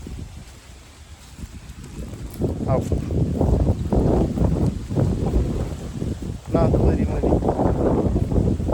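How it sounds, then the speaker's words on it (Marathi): Strong wind gusting across open farm fields, a steady roaring rush close to the microphone that swells louder partway through, with someone talking over it. "आज लईच वारं सुटले"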